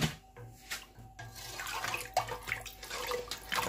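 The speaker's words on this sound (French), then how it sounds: "Je mets la quantité d'eau choisie" Water pours into a pot to make Guinean foufou (tôh), a soft, uneven splashing and gurgling stream heard at close range.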